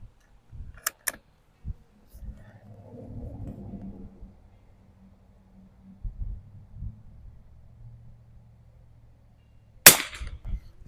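Mossberg 146BA rifle shot with iron sights at 50 yards, a sharp, loud crack near the end after two quick earlier transients and a stretch of quiet low rumble and faint handling noise.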